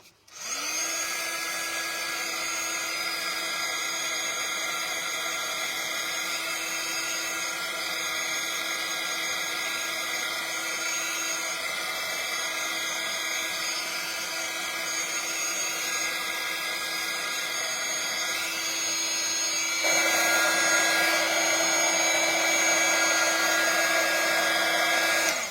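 A hair dryer blows at close range as it dries a freshly painted acrylic panel. The whine and steady airflow hold constant and loud throughout, then step up slightly in pitch and level near the end.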